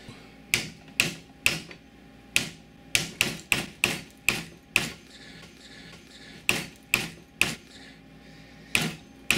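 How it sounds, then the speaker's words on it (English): Sharp impact strikes land in an irregular series, about twenty hard hammer blows on a rigid plastic DJI CrystalSky Mavic mount, each a crisp crack with a short ring, no talking. "Now I'm hitting that pretty damn hard with the hammer"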